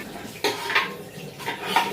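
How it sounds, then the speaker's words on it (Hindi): Steel utensils and pots being washed in a home kitchen, with clanking, scraping and knocking of metal against metal in irregular bursts, close and fairly loud with no talking. "पूरे बर्तन है उसे भी साफ कर लेती हूँ।"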